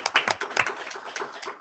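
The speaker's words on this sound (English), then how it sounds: "Give her a round of applause, you guys." A short burst of applause from a crowd at a school board meeting, many hands clapping together at a steady, moderate volume.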